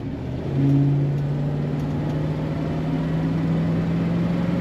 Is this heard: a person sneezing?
no